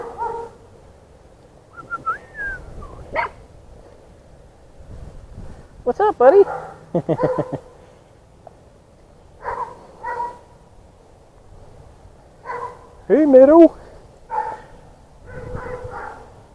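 Dogs next door, one big and one small, bark in short scattered bursts across a backyard, moderately close, while someone talks to them now and then between the barks.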